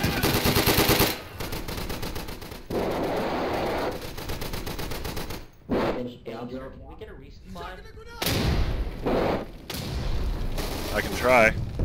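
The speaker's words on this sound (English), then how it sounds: "Putting down artillery outside of the building" Artillery fire and heavy gunfire in the World War II shooter Day of Infamy on a Dunkirk map, with loud booming blasts and rattling bursts in dense, shifting waves, under talk.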